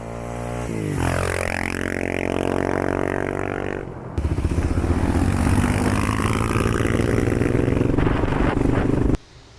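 Dirt bikes racing along a beach on a Cape York adventure, loud revving engines rising and falling in pitch with a shift at midpoint, close and sustained, then cutting off abruptly.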